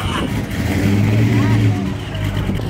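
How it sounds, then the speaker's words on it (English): A boosted Fox body Mustang with a supercharger blower whining over its engine note, a steady mechanical drone with rising tones, while someone talks over it. "Sounding crazy, listen to that blower."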